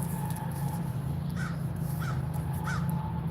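A crow cawing outdoors near a large outdoor projection screen setup, three short harsh calls spaced about half a second apart, fairly faint over a steady low hum and background noise.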